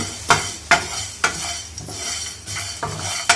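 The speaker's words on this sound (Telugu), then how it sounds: "2 చెంచాలు ధనియాలు, ఒక 5-6 మిరియాలు, కొన్ని ఎండి కొబ్బరి ముక్కలు. ఇవి దూరగా వేయించుకోవాలి." Coriander seeds, peppercorns and dried coconut pieces are dry roasted in a pan, with rhythmic scraping stirs roughly every half second over a soft rattling of the spices, close and clear.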